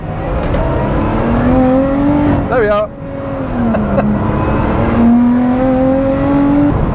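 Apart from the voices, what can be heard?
sports car accelerating in second gear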